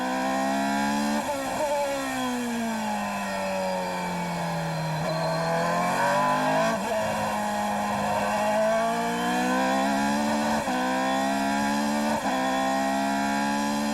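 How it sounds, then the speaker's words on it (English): A Formula 3000 car's Zytec V10, rated around 460 horsepower, howls on track at the Nurburgring, loud and continuous with its pitch sweeping up and down through repeated gear changes. "Zytec V10 engine, making about 460 horsepower."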